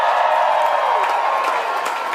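A big crowd at a UC Berkeley Big Game bonfire rally roars and cheers for the dance and cheer teams, a loud, sustained wash of voices and claps.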